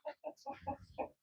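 Hens on a farm clucking softly up close, a quick run of five or six short clucks in an uneven rhythm, quiet and with no other sound.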